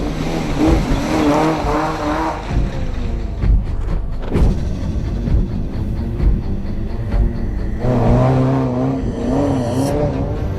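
Rally cars on the Mughal Road to Kashmir running on all-terrain rally tyres, engines revving loudly and continuously close by, with rising and falling pitch as they accelerate and pass, plus brief gravelly tyre noise.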